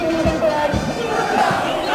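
A mass of young people and students at a rally roars battle cries together, a loud sustained crowd shout with rhythmic surges rising and falling in unison.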